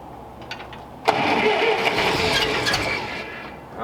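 A cold 1940s tractor engine cranking and briefly catching, first faint clicks, then a sudden loud surge into a rough, sputtering run for a few seconds before fading.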